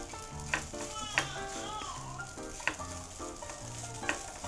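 Fried rice sizzles loudly in a hot pan while a utensil stirs and scrapes at intervals, with music playing behind.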